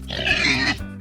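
A pig lets out a single short, nasal squealing oink, up close and alone.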